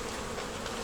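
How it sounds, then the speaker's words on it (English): Honeybees flying around the hives on a clear, mild day, a soft continuous buzzing hum from many insects, fairly faint and steady, with no voices. "Bees are flying all over the place."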